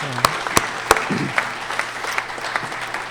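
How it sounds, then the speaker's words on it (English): Audience applause at the 2022 Urban Design Awards ceremony: steady, fairly loud clapping from a seated crowd for about three seconds, with a few sharp, close claps standing out from the wash. "they deserve a huge round of applause"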